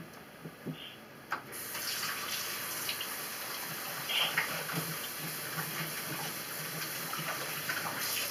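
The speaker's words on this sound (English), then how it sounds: "I gotta wash my hands." Tap water runs steadily into a sink while oily hands are washed, a continuous close hiss of flowing water after a few brief knocks at the start.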